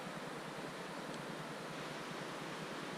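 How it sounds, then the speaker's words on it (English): A rushing river far below in the North River Gorge gives off a steady, even roar of broadband water noise, distant and unbroken, with no voices. "right down there is a rushing river"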